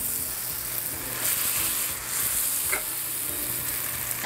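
A whole stick of butter melting and sizzling in a pan for creamy baked mac and cheese, a steady close frying hiss with a few soft stirring scrapes.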